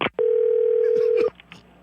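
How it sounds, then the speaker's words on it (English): Telephone dial tone after a handset is hung up: a single steady, loud tone held for about a second, with voices briefly under and after it. "I am again hanging up the phone"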